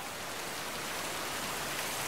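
Heavy rain pours steadily in Thailand, a dense, even hiss of water that stays constant and fairly loud throughout, with no voices.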